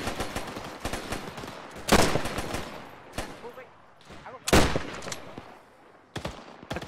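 Bursts of rapid automatic gunfire in Arma 3 military gameplay, loud volleys and single sharp shots repeating at irregular intervals, with voices talking between the bursts.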